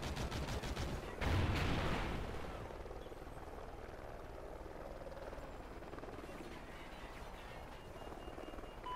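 A friendly helicopter in a shooter video game drones steadily throughout, with a louder burst of gunfire-like impacts near the start, then a continuous rotor hum underneath; no talking.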